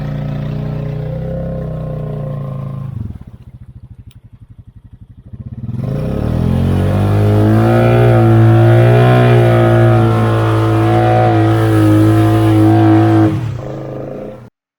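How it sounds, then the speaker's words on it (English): A Jeep Rubicon on 34-inch Terache Aztex mud tires backs up in a circle. Its engine is close and loud: it idles, dips briefly, then revs up into a sustained, growling drone before cutting off. "To lock the diff in, just back up in a circle."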